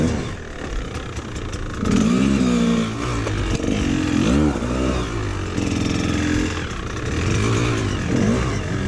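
An enduro motorcycle picking its way through a cross training course, its engine blipping and revving in uneven bursts with clattering mechanical noise, close and fairly loud throughout.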